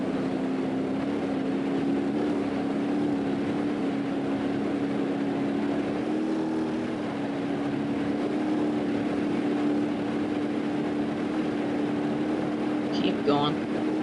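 A car drives steadily through the Blackhills Nevada map in BeamNG.drive, its engine holding a constant drone throughout, with a brief faint click near the end.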